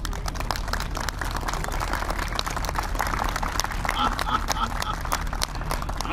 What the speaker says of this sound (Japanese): この者たちの働きに大きな拍手をば。